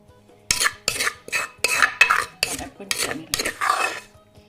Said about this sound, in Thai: ตำแอปเปิลเขียวนะคะอันนี้ตำสองหน่วย